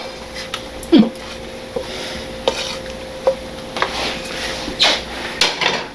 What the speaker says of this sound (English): Now we're just going to give this a good little stir around.